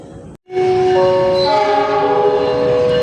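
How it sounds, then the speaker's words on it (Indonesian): After a short break, the Pangrango train rumbles loudly close by as it shunts into Bogor Paledang station, Indonesia, with a sustained, tonal horn-like drone running over the noise. "bentar lagi keretanya udah langsir masuk ke stasiun Bogor Paledang"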